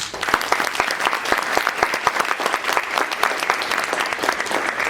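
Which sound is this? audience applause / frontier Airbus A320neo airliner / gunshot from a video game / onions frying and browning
audience applause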